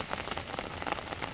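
Rain falls steadily on a village road in the Sundarbans, a dense patter of drops striking the surface close by, with no voices over it.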